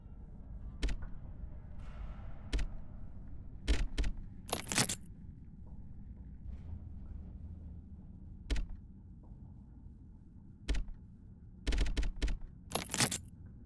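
Keys jangle in the video game Conscript in several quick metallic bursts, close and crisp, separated by stretches of a low background rumble.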